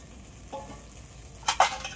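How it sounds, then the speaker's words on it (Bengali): Washed helencha greens dropped into a wok with a little water, a soft hiss and stir early on, then a couple of sharp sizzling bursts near the end, fairly quiet overall. "এই হেলাঞ্চ শাকগুলো পরিষ্কার করে ধুয়ে নিয়েছি, এবার আমি কড়াইয়ের মধ্যে দিয়ে দেবো"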